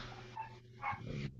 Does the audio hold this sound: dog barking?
yes